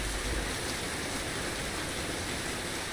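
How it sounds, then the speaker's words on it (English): Rain in the fishing video game Russian Fishing 4, a steady, even hiss of heavy rainfall on surfaces, continuous and loud throughout with no talking. "Is the rain too loud for you guys?"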